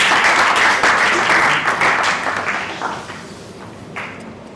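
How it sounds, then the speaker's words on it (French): A school audience at a summary-writing contest applauds the last contestant, a dense burst of clapping that starts full and thins out over a few seconds. "Sous vos applaudissements, s'il vous plaît."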